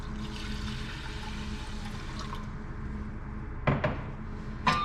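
Cold water pours steadily into a metal pot holding brown lentils, a continuous splashing wash with a couple of sharp clinks of the pot near the end.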